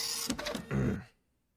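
A printer runs with a burst of rapid mechanical clattering and whirring, then a short heavier grinding pass before stopping abruptly into silence; close and fairly loud, with no voices.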